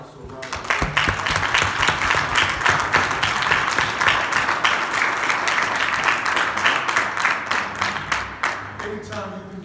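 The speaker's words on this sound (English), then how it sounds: "we need to give the William H. Pop Laws Grand Council a round of applause" An audience at a Black History program applauds a Knights of Pythagoras grand council, lively rhythmic clapping with some louder individual claps over about nine seconds, and a voice and murmur around it.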